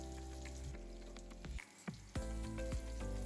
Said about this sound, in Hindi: तो इस कटहल को हम और थोड़ी देर के लिए फ्राई कर लेते हैं।